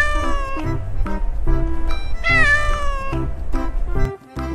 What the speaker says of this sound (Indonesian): ternyata kita menemukan seekor kucing.